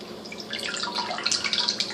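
Rapid, close water drips patter in a quick irregular rhythm, growing slightly busier toward the end, with no talking.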